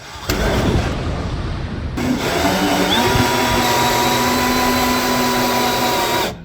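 Hole saw drilling into a Dodge Ram Cummins truck part, a loud steady whining power-drill roar that starts abruptly and runs without pause, rising in pitch as the cutter bites.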